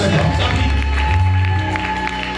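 A congregation at a prayer service claps and cheers continuously, dense and loud, with a voice rising over the applause.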